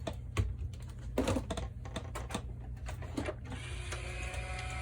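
A paper die cutting machine cranks cardstock through its rollers for greeting cards, a steady close mechanical grinding and whirring with repeated clicks and ratchety bursts, no talking.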